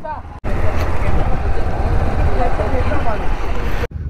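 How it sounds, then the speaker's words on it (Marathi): Ferry at Bagmandla jetty on the Konkan coast, a loud, steady engine and water roar that fills the clip and cuts off abruptly at both ends. "तर ही बागमांडला जेट्टी आहे."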